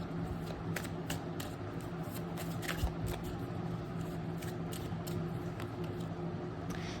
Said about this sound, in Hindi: एक बार सारे कार्ड्स निकाल देते हैं फिर रीडिंग शुरू करते हैं ना